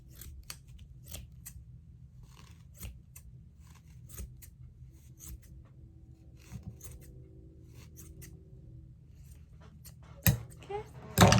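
Scissors cutting through yarn wrapped for a pom-pom, many quick close snips in irregular bursts over a low background hum, ending with louder handling rustles.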